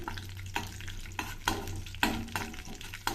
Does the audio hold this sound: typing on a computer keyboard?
no